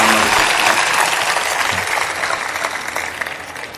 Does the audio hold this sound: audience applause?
yes